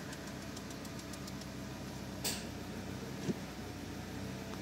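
A car with an automatic gearbox starts on the first try and then settles into a steady idle. The engine is faint and sits under a constant low hum, with a single brief clunk partway through and no voices.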